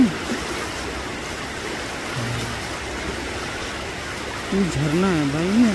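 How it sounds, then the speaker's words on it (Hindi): Rushing waterfall in rainy hills, a steady broadband roar of falling water throughout, with a voice talking over it near the end. "झरना है भाई"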